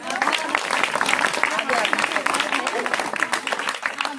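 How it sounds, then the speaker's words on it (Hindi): Busy applause from an audience at a women's day social welfare event, continuous and fairly loud throughout, with voices mixed in among the clapping. "अगर आई हो तो एक बार तालियां बजा दो।"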